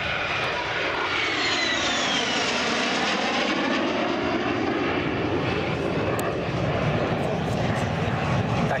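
A loud propeller airplane engine drones continuously as the aircraft passes close overhead at the 2019 Pardubice air show, its pitch slowly shifting.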